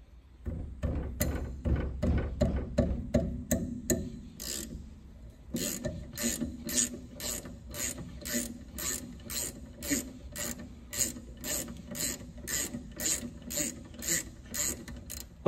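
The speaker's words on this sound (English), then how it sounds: "So I'm going to loosen the brake bleeder." A wrench ratchets steadily while loosening a brake bleeder on a 1976 Datsun 280z, with a long run of rapid evenly spaced metallic clicks and a short pause partway through, close up with no talking.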